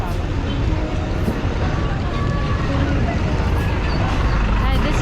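Night ambience on Pier 3, a busy ferry pier in Cebu, with a dense low rumble of boat engines, wind and water, steady and fairly loud for the few seconds it runs.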